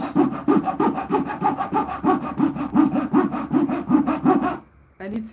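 Manual sawing with simple hand garden tools, a steady rhythmic back-and-forth rasp of repeated strokes, close and fairly loud, continuing for several seconds before stopping abruptly.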